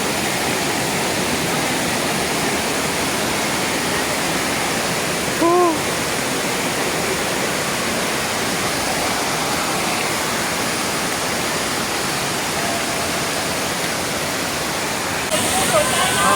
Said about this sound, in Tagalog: The Mother Falls at San Luis, Aurora Province.